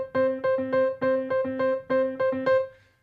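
A single piano plays a two-against-three rhythm: repeated short notes on two pitches interlock in an even, bouncing pattern, clear and close with no talking.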